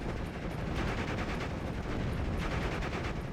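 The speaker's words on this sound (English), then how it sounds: "Aiming up an armor-penetrating shot now. Will roll a miss onto the Panzer IV." Dense, continuous battle din from the war game Steel Division, with gunfire and explosions layered into a loud, steady roar and no single distinct tank shot standing out.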